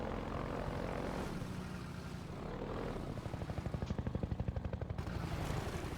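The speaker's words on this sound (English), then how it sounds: "Helicopter bombing run." A helicopter makes a bombing run in the video game Half-Life 2. Its rotor drone grows into a loud, rapid rhythmic thumping over a rumbling game soundscape, with no talking.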